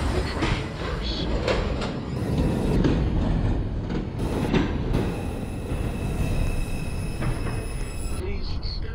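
NJ Transit or Metro-North train standing at an accessible station, a steady rumbling hum with clunks and faint wheel squeal, while a recorded announcement plays over it.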